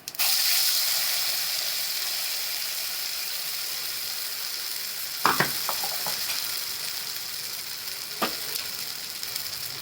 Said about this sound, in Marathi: मसाला तेलामध्ये चांगलं भाजून घ्यायचा